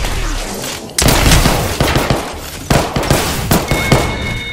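Gunfire in the Apex Legends video game, loud bursts of rapid shots and sharp repeated blasts over several seconds, close and punchy, with brief pauses between volleys.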